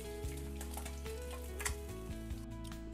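Small puti fish frying in hot oil until red and golden, a steady loud sizzle with crackling bursts running throughout, close up and without talk.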